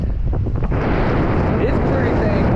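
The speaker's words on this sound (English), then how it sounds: "It's pretty dang windy today" Strong wind buffets the microphone outdoors on a winter fishing outing, a steady, loud low rumble with gusty roaring that never lets up.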